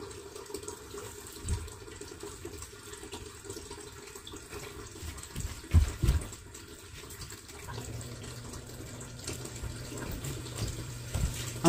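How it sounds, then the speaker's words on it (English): Tap water runs into a pot mixed with soap in a homestead kitchen, a continuous low rushing and splashing with a few louder clunks along the way. "I'm just filling the pot with water and soap."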